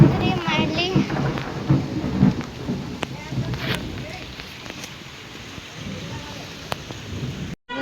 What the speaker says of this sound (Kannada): ಮತ್ತೆ ಬಂದಿದ್ರಿ ಮಳೆ.